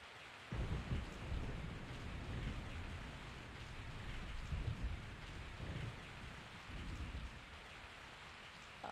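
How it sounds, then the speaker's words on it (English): Steady falling rain with deep thunder rumbles in the Resident Evil 3 game, heavy and continuous throughout with a few stronger low swells. "I woke up to the sound of falling rain."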